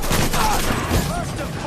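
Gunfire in the video game Mafia 3: dense, loud bursts of rapid shots that run continuously through the moment, with a thick, rough battle wash and no clear pauses.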